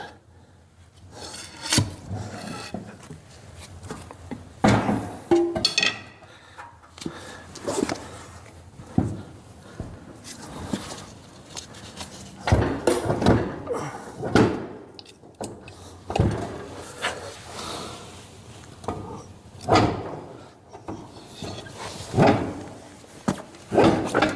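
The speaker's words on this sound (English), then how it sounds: "Let me get a screwdriver here and lift this tire so I don't have to struggle with it." A screwdriver pries and lifts a trailer tire on its hub during a hub bearing and race replacement, giving repeated scraping, rubbing and grinding strokes of metal on metal and rubber, close and irregular.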